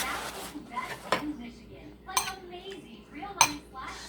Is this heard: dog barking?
no